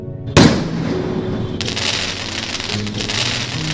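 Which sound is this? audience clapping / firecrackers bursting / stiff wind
firecrackers bursting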